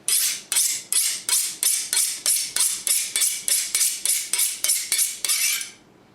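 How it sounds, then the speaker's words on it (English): A kitchen knife honed on a steel between sharpenings before cooking chili, with about fifteen evenly spaced, bright metallic scraping strokes in a steady rhythm, close and loud, then stopping. "This is how I tend to my knives in between sharpenings."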